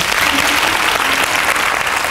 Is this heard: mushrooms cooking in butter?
no